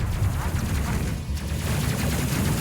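Ship weapons firing in the spaceship crew game Space Crew, a dense continuous rattle of rapid shots at steady loudness throughout.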